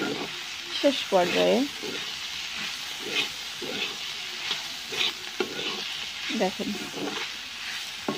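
Onion stalks fry in a pan over a clay stove, a steady sizzle and stirring running beneath a voice talking intermittently throughout.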